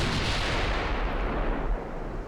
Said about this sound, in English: I'm going to sail so I can fire all 8 guns.